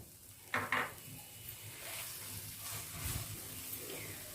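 A spoon scrapes and stirs egg halwa in a pan with cardamom powder and kewra water, faint sizzling under a couple of sharp metallic clinks and steady stirring.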